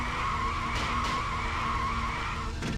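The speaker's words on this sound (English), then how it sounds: "From the sound of tires skidding" Tires skid and squeal continuously in the Virtua Racing arcade game, a steady high screech over engine drone lasting nearly three seconds, loud and close with a brief burst near the end.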